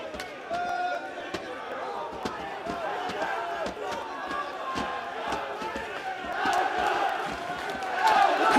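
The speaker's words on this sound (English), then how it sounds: "The crowd are getting behind Elcock." Boxing crowd in a Coventry arena roaring and cheering steadily throughout, a dense wash of voices swelling louder toward the end, with sharp punch-like thuds and shouts cutting through.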